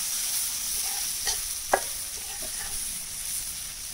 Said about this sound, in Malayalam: അതിലേക്ക് നമ്മൾ തന്നെ നേരത്തെ ഫോർക്ക് കൊണ്ടൊന്ന് കുത്തി വെച്ചിട്ടുണ്ടായ കാട മുട്ട ഇട്ട് കൊടുക്കാം